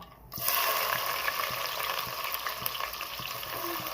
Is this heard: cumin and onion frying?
yes